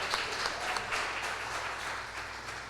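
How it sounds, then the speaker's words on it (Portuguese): A church congregation applauds during an evening service, a dense, even wash of many hands clapping at a moderate distance, sustained throughout without a break. "Vamos aplaudir o nome do Senhor pelo que Ele tem feito no nosso meio essa noite"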